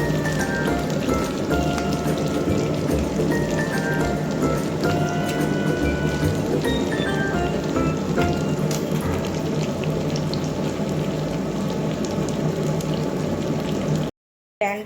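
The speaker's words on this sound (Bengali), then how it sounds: "ম্যারিনেট করা চিকেনগুলো ভেজে নিলাম" Marinated chicken frying in a pan gives a loud, dense, continuous sizzle like heavy rain, crackling steadily before cutting out abruptly near the end.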